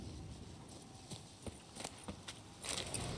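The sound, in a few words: horse Roach running in The Witcher 3 video game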